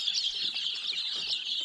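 Chickens on a hill farm cluck in a brief, continuous flock chatter, fairly close and loud, with no talking.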